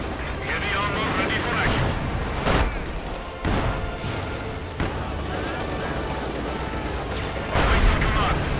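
Dense gunfire and heavy tank cannon blasts from a Company of Heroes 2 battle, with a KV-8 tank firing on German anti-tank guns; repeated loud booms punch through steady rattling fire and a commentator's voice.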